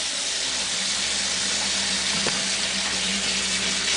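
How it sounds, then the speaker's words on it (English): Water from a tap turned up high gushes steadily into a bucket, a constant loud hiss of filling water with no pauses. "filling the bucket up with some water."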